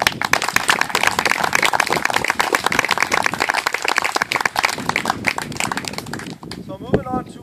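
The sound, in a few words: audience applause at an awards ceremony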